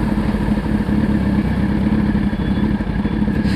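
A motorcycle engine runs steadily and loud throughout, a continuous mid-pitched rumble with slight clatter and no change in pace.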